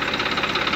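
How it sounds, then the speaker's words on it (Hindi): Massey Ferguson 241 tractor running in fifth gear with its PTO driving a 3 horsepower submersible pump: a steady, close diesel chug with a fast, even knocking rhythm and a vibrating undertone. "अब ये हमारा चल रहा है पीटीओ पर, जो कि पांचवे गियर में और समर सेविल चल रहा है 3 हॉर्स पावर का"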